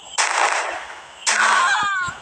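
Two sharp bursts of gunfire ring out in the Indian Bike Driving 3D video game, each a loud noisy blast trailing off over about a second, close and with no talk over them.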